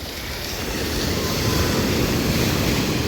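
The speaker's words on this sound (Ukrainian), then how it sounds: "Хвиля так же ж йде вже з такою силою і повертається назад з такою ж самою силою." Powerful surf rolls in and draws back at Playa María Jiménez in Puerto de la Cruz, a steady loud broadband roar that swells slightly midway and holds without pause.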